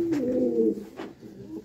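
A Galotu pigeon coos close by, a soft throaty rolling coo followed by a couple of shorter, quieter coos.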